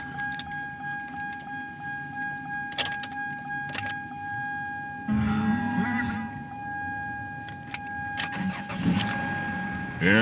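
An old car on a back lot cranks and its engine catches midway, a rough burst of starting noise rising over a high steady electronic chime, then settling with a few clicks and rustles.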